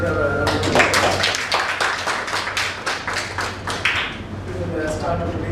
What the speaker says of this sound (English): Please give her a bit of a round of applause.